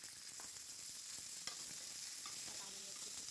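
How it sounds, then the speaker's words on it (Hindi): Peas fry in a pan of oil, a faint, quiet sizzle with light stirring and scraping ticks scattered through the short stretch. "इसी में मटर डाल के फ्राई कर लेंगे।"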